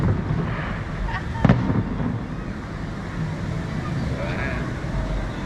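Disneyland's nightly fireworks show heard from the Grand Californian Hotel: a dull, distant boom and rumbling bursts under a constant wash of crowd noise and nearby voices talking.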